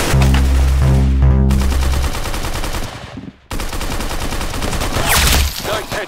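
Loud, dense automatic gunfire in an arsenal boss fight video game, with continuous rapid bursts and a brief drop in the middle before the shooting resumes.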